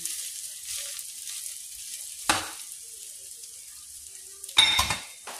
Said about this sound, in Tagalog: Ang ingay naman itong panghalo ko.